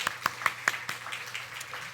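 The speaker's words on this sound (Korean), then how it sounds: "우리 잘 오셨다고 우리 일어나시면 잠깐 박수하도록 하겠습니다" A small church congregation at a Sunday worship service claps briefly to welcome a visiting deaconess from Busan, with a few distinct, spaced claps at the start followed by faint, scattered clapping at a moderate distance.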